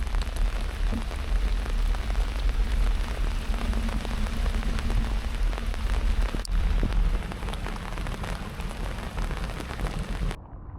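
Steady heavy rain pours down during a bike tour in West Virginia's Monongahela National Forest, a dense continuous hiss close by and alone for about ten seconds before cutting off abruptly.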